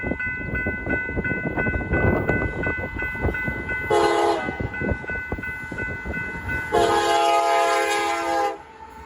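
Two CSX freight locomotives pass near a rail crossing, engines rumbling loud and steady under repeated long horn blasts, with wheels and railcars clattering along the track the whole time.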